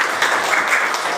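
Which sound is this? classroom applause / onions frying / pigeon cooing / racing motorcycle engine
classroom applause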